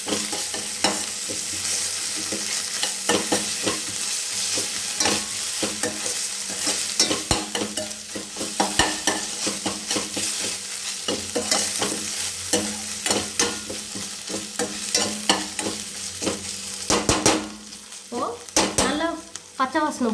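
Ginger garlic paste sautés in a pan for egg kothu idly: a steady, close sizzle runs throughout, broken by repeated scraping and clinking stirring strokes, with no talking.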